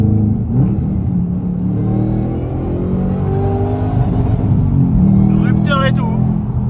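An American car's engine roars loudly on a racing circuit, rising in pitch as it revs up toward the limiter, with speech over the sound.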